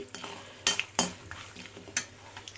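Peanuts, lentils and mustard seeds roasting dry in a pan, stirred with a spoon: several sharp metallic scrapes and taps over a faint crackle, close by and without talk.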